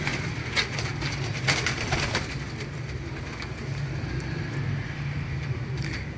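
Pigeons cooing in a loft, soft throaty coos repeating in short bursts against a constant background hum, fairly quiet and with no voices.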